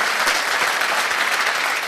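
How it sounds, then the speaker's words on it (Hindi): Strong, continuous applause from an audience at a talk, a dense crackle of many hands clapping that stays steady and loud throughout. "ताली जोरदार वाली बजाइए"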